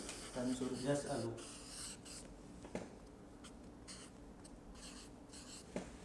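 Chalk or marker scratching across a board during a Quran tafseer lesson, with a teacher's voice at the start and soft strokes continuing fairly close, plus a couple of sharper taps.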